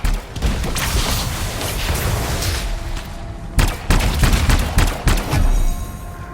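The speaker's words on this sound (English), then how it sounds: "The crystals are exploding!" Unstable crystals exploding in the video game Anthem, a loud sustained roar of blasts and crackling bursts, with a brief lull and then fresh booming detonations, close and dense.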